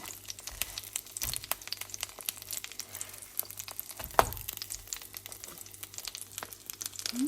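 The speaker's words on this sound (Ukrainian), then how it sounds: "обсмажуємо наші чебуреки до золотистої е, шкуриночки" Chebureki made from lavash fry in a pan, a soft continuous sizzle with scattered crackles and pops, fairly faint and close, with no talking.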